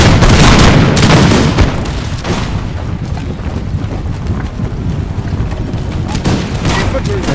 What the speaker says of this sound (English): They're about to shoot a good volley here.